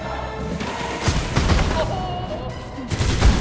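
Fireworks attack in the video game Hollow Knight: Silksong during a boss fight, a dense run of booming bursts and crackling blasts layered over busy game music and effects, with a heavy thump near the end.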